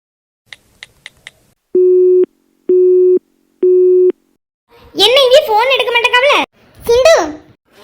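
A phone call goes unanswered: a few quick keypad beeps, then three evenly spaced steady tones, followed by a voice speaking.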